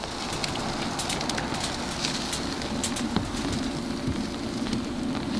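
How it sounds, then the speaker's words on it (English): Steady rain falling on and around an outdoor grill during a cookout, a dense even hiss with scattered sharper patters and drips, close and constant without talk. "Who grills out in the rain?"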